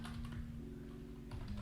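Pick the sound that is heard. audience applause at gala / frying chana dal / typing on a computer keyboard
typing on a computer keyboard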